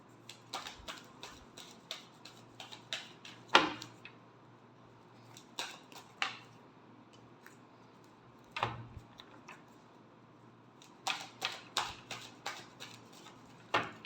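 Tarot cards are shuffled by hand, giving quiet, close bursts of crisp card clicks and flicks in irregular runs, with short pauses between them.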